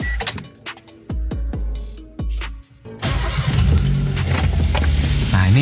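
Keys jangle and an old Toyota Kijang car's engine cranks briefly, catches and settles into a steady, loud idle, recorded close with no talking.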